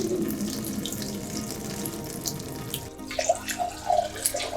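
Running tap water pours over rice being rinsed in a sink, a steady splashing stream that shifts and becomes more spattery partway through as the grains are swirled.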